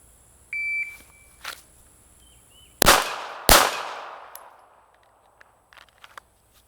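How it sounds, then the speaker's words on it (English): A shot timer beeps, then two sharp handgun shots crack close by with a ringing decay during a Navy basic handgun qualification drill, followed by fainter clicks and handling sounds. "draw and fire 2, emergency reload, fire 2 more"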